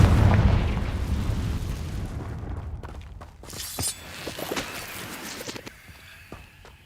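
A Confringo spell explosion in the Hogwarts Legacy video game opens with a loud, deep boom that rumbles away, followed by sharp crackling pops and scattered debris-like bursts fading out.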